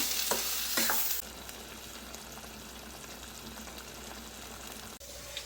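Chowlekai (cluster bean) palya cooking with a little added water in a pan on the stove, a soft steady bubbling and sizzling hiss after a brief louder stir at the start, with no talking.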